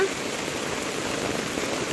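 Steady rain falls outdoors, a dense, even patter hitting surfaces close by with no break.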